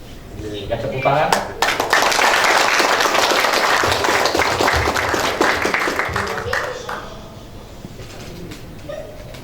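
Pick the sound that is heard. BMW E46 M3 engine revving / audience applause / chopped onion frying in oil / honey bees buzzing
audience applause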